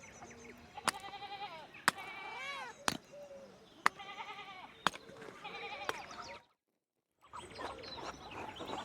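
Repeated cat meows from a cat in the medieval-set game Pentiment, several rising and falling calls in a row, fairly close, between sharp clicks and a short silence, with game ambience resuming afterward.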